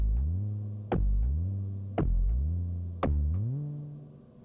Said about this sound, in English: we also added this log drum that kind of glides just before the end as well